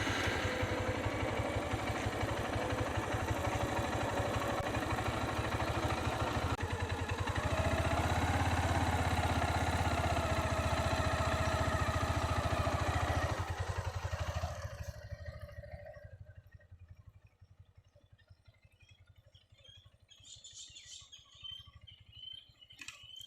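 A motorcycle engine running at a steady idle for several seconds, then cutting off, leaving quiet background with faint bird chirps.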